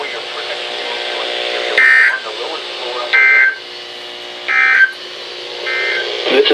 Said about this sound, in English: This station will broadcast severe weather alarm tones for wind